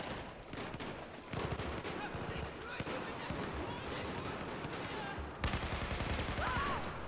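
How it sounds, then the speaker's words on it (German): Automatic gunfire in repeated bursts from the video game Battlefield 4, loud and dense across the clip with sharper volleys breaking in partway through, over a busy battle backdrop. "Salvenschießen ist hier im Battlefield überlebenswichtig."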